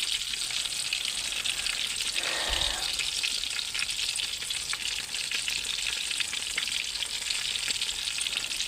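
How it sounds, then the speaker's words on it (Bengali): Fish frying in hot oil for a kalia curry, a dense continuous sizzle with crackling oil spatters, close and loud throughout, no one speaking. "মাছ দিলেই তেলটা ছিটকায়"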